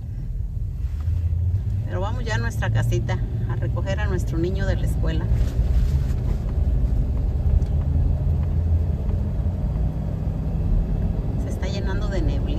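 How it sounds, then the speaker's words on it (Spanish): Heavy road traffic with cars passing, a steady, loud engine and tyre rumble running throughout while a person speaks over it. "Como ven, hay mucho tráfico."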